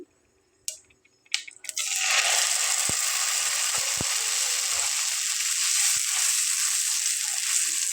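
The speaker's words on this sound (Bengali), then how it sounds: "খুব ভালোভাবে ফাটা শুরু হয়ে গেছে। তো এখন আমি দিয়ে নেব ভর্তাটা ফোড়ন।" Spring onion bhorta hitting a hot mustard seed tempering in a pan: a few clinks and knocks, then a sudden loud, steady frying sizzle with occasional stirring taps underneath.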